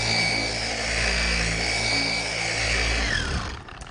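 An electric paint polisher works on medium speed, setting 5, over a car's paint, a loud steady whine with a low hum that winds down and cuts off near the end.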